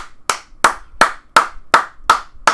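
Single person clapping live, seven sharp slow claps at a steady rhythm, close and crisp with quiet gaps between them.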